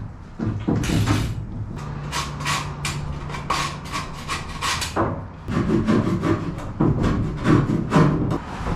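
An epoxy and polyester boat interior panel is cut into a shaped line, a loud, rough, continuous rasping and sawing with rhythmic strokes running throughout, close up and without talk.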